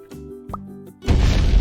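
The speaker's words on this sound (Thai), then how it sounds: "อันนี้เป็นเสียงระเบิดนะทุกคนนะ" Some low synthetic tones and a short blip give way to a sudden loud, noisy burst, a booming digital explosion effect in the game Mini World that keeps rumbling to the end.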